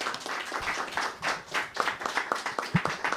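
An audience applauds at a talk on education in Venezuela, a dense run of hand claps close by, steady for about three seconds with almost no voices.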